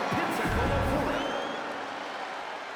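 An arena crowd roars and cheers in a WWE 2K25 wrestling game during a ring entrance, a dense continuous wash of noise that slowly eases, with no clear talk over it.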